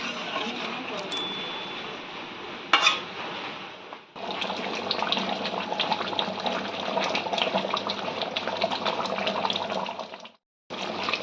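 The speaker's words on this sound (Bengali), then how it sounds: "আমি এখানে পরিমাণ মতন জল অ্যাড করে দেবো।" Water is poured from the meat-mixing bowl into simmering chicken curry for Birista chicken, making a steady close splashing rush that lasts several seconds. A brief break comes near the end.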